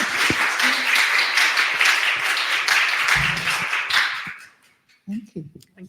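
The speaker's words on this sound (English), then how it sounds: "I hope you'll join me in congratulating on the usual round of applause" An audience gives a round of applause after a talk on decent work in career development, with sustained clapping for over four seconds that then dies away, followed by a speaker's voice.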